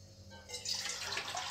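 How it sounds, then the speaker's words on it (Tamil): Water poured into a cooking pot while preparing chicken paneer pasta, a short splashing rush that starts faint and grows louder and steady after a brief moment. "கொஞ்சம் தண்ணி ஊற்றி வச்சிடலாம்."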